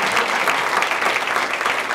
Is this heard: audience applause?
yes